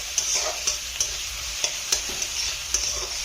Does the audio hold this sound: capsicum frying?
yes